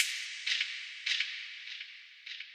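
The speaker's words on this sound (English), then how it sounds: "This gunshot." A few sharp, thin gunshot-like cracks pop out over a steady hiss, four quick bursts spaced irregularly, fairly faint.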